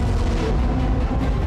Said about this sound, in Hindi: जोरदार धमाका हुआ और फिर आग की लपटें उठने लगी।